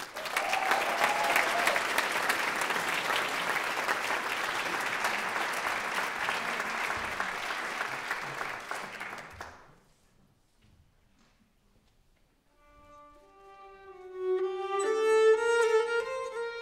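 Audience at a traditional music festival concert applauding warmly for about nine seconds, then the clapping stops and, after a short quiet, a plucked stringed instrument begins a few notes.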